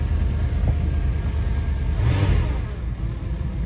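A 1989 Chrysler Fifth Avenue engine running off the choke, a steady close rumble that swells briefly into a rev partway through.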